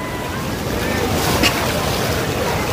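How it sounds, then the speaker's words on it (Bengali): Strong river current rushing past a rubber dam makes a steady, loud roar of turbulent water with wind noise over the microphone, continuous and close with no pauses. "বাপরে দেখছেন পানির কেমন স্রোত, অনেক স্রোত"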